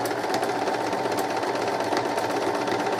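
A sewing machine stitches along the edges of joined fabric pieces, giving a steady, even rapid whir throughout, close and continuous with no talk.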